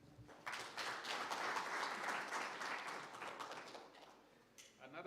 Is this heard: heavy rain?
no